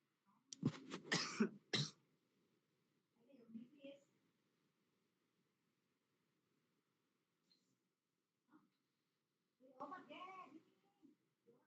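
A burst of several sharp coughs, then a throat clear and a few quiet murmured sounds with long silent gaps between.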